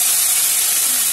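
Onion paste dropped into hot oil with bay leaf, cumin, cardamom, cinnamon and cloves, giving a loud, continuous close-up sizzle throughout, with no voices.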